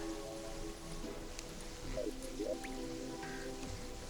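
Soft, scattered drips and light rain patter in the video game Terraria at low volume, with faint background hum and no talking.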